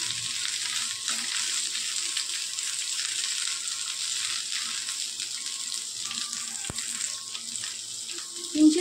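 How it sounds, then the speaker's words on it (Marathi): Onion and capsicum stir-fry on high flame, a continuous bright sizzle holding steady throughout, with a faint clunk late on. "थोडंसं हाय फ्लेमवर आपल्याला कांदा आणि शिमला मिरची परतून घ्यायची"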